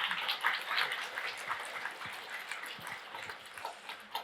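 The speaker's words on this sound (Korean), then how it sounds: "큰 박수 맞이해 주시죠." Audience applause in a packed hall as the Seoul mayor is welcomed on stage for a keynote on regulatory reform. A soft, distant, continuous wash of many hands clapping, with no voices over it.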